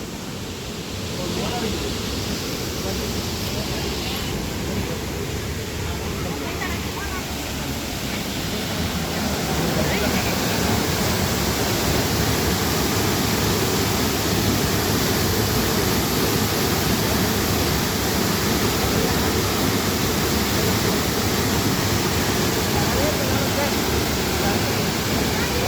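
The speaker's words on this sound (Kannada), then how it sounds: "ಬಾಳು ಮಾಮನ ಗುಡಿ ಹಿಂದನ ಈ ಫಾಲ್ಸ್." A waterfall behind Balu Mama's temple roars steadily as a broad, loud wash of rushing water that swells slightly louder partway through, with a voice talking faintly over it.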